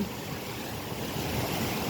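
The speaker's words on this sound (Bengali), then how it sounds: "বর্ষার পানি এসে এখানে অনেক ভাঙচুর হচ্ছে।" Monsoon floodwater rushing past and eroding the land, a steady, dense roar of churning water that holds loud and unbroken throughout.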